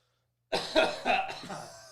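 A single person coughs two or three times in a quick, raspy burst after a moment of silence, close to the microphone.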